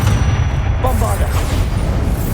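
In the video game Hogwarts Legacy, a Bombarda spell blast rumbles loudly through the whole moment as a continuous heavy boom, with a brief bright crackle near the start.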